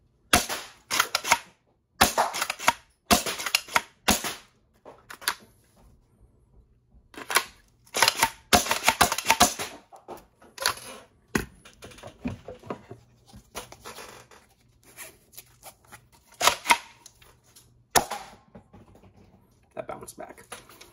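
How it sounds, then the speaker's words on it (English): Alchemist toy blaster fired repeatedly across a room at a target, sharp snapping shots coming in quick bursts and singles with short pauses between them, loud and close. "So there's some firing of Alchemist."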